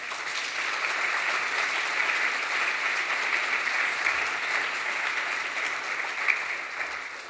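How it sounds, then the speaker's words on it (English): A lecture audience at the Stephen Lawrence Annual Memorial Lecture claps for an architecture award winner, giving a steady, sustained round of applause from a full room. "You see how I said the words really slowly to make sure they clapped?"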